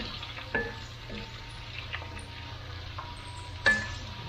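Large shrimp frying in hot fat in a pan, giving a steady low sizzle with a couple of sharp clinks or tosses against the pan, close and fairly quiet, with no talking.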